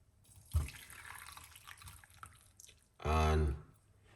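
Parsley and lemon tea being poured off, with a soft splash early on and then a brief, strong, gurgling pour near the end, while a voice talks quietly around it.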